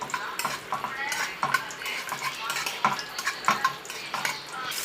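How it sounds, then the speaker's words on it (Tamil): Cashews frying in ghee in a pan for laddu, with a soft sizzle under repeated clinks and scrapes of a metal spoon stirring against the pan in an uneven rhythm, close and moderately loud. "இப்போ நெய் ஊற்றி முந்திரி போட்டிருக்கோம்."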